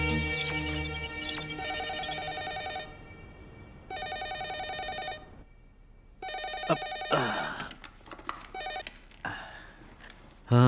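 A telephone rings repeatedly after a number is dialed, a ringback tone sounding in regular bursts separated by pauses, fairly quiet and mixed with background movie sound and some clatter.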